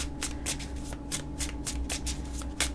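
Two tarot card decks being shuffled by hand, a rapid series of crisp riffling bursts and flicks repeating about every quarter second, close and clear with no talking.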